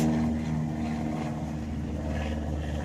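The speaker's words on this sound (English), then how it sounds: "I got irritating planes flying by" A small propeller plane drones steadily overhead, a continuous low engine hum with a broadband rush that holds at a fairly even level throughout, fairly close and loud.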